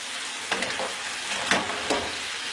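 A sauce for coating fried chicken wings cooks over raised heat on a stove, with a soft continuous sizzle broken by a few distinct stirring scrapes.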